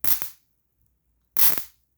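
Two sharp, loud snaps from a high-voltage arc fed by a homemade capacitor, each a brief crackling burst with silence between them.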